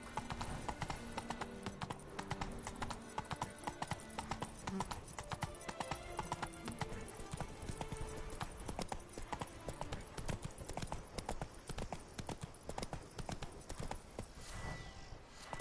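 Horse hooves clip-clopping steadily in The Witcher video game, a continuous brisk rhythm of close, crisp hoof strikes at low overall volume.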